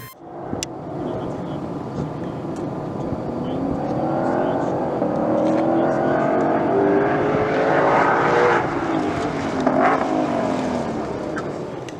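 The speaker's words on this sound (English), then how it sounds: "We were to take the car from a dead stop to 100 miles per hour and then hit the brakes." A Ford Shelby on a track pulls from a standstill up to 100 mph and then brakes, its engine roar rising steadily over about twelve seconds, loud and continuous.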